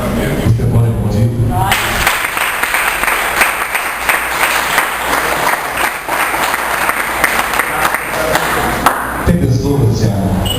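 A church congregation applauds during a Portuguese sermon: a burst of loud, dense clapping starts after a brief spoken moment, carries on for about seven seconds, then gives way to talk again.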